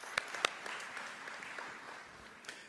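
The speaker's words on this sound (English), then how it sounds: "I want to give him a round of applause." Faint, scattered clapping from an audience at an education professionals' welcome event, a few sharp nearby claps over a thin wash of distant applause that tapers off.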